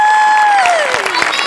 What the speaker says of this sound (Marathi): कहर सावत्यासाठी एकदा टाळ्या वाजल्या